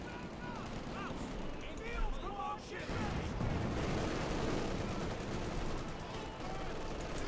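Dense battle gunfire from Company of Heroes 2, with Pioneers taken under fire and a Sherman and Panther fighting, rattling continuously with machine-gun bursts and distant blasts, steady and moderately loud amid battlefield noise.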